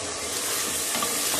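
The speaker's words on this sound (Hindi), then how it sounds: "ये भी अच्छी तरह मैं भून लूँ" Spice masala with chili, turmeric, salt and tomato frying in a pan for lobia gosht, a steady close sizzle with faint stirring scrapes throughout, no voices.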